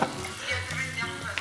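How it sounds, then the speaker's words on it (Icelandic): Potatoes fry with rosemary and garlic in butter in a pan, giving a close, steady crackling sizzle throughout, with faint tonal sounds in the background. "Smjörið er í rauninni að marinera kartöflurnar meðan það er að steikja þær."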